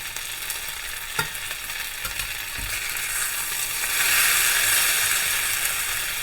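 An egg and cheese omelet sizzles and fries in a pan, a steady, close hiss that swells louder midway, with a few soft clicks of a utensil and no talk.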